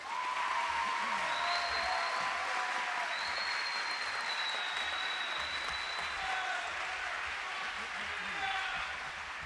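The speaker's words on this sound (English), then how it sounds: "Let's give these students another round of applause." Sustained applause from an audience at a graduation stole ceremony for students, dense and steady throughout with some scattered cheering and voices mixed in.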